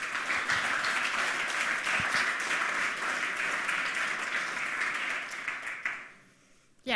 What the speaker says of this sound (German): Einen schönen Applaus.